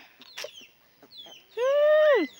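A chicken gives a loud, drawn-out squawking call after a few short clucks and rustles, close by with quiet pauses between.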